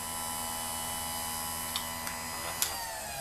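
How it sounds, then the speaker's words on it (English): A chainsaw chain sharpening grinder for a McCulloch 3516 chain runs with a steady electric hum and whine, close and even, with a few faint ticks of contact as it grinds. "Turn the grinder off."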